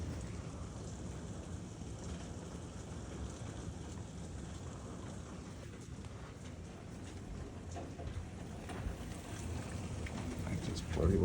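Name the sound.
rain during a thunderstorm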